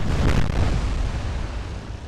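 Warship guns fire in the Atlantic Fleet naval game, one heavy booming blast with a rumbling tail that fades over two seconds.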